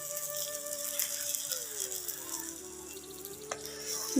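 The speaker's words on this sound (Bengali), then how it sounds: "তারপরে কাঁচা লঙ্কা আর পেঁয়াজ কেটে অমলেট করে নিচ্ছি" Omelette of egg with chopped green chilli and onion sizzles in a pan, a steady close frying hiss with light clatter, while a faint tonal hum runs underneath.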